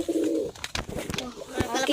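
Pigeons in a coop give low, throaty coos close by, with rustling and other bird noises and a voice partly overlapping.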